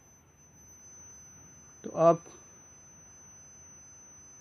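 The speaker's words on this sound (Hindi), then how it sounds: "बजर सुन सकते हैं" A multimeter's continuity buzzer sounds while testing an air conditioner indoor unit's room temperature sensor wires, a thin, steady high-pitched tone held unbroken and faint, with someone briefly speaking midway.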